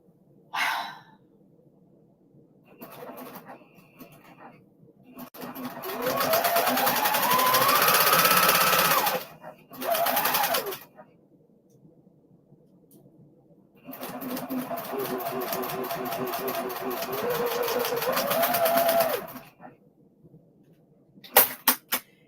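A home embroidery machine stitching, running in two long bursts of steady mechanical whirring and needle chatter separated by pauses, with quieter short runs and clicks in between, close and moderately loud.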